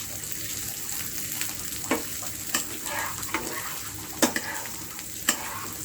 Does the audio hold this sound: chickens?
no